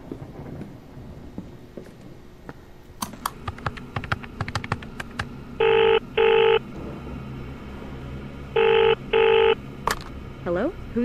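A telephone is dialed in the indie horror video game BAISU. After scattered clicks and rumbling ambience, two pairs of loud, clear keypad tones sound, each pair a short double beep, followed by a fainter tone at the end.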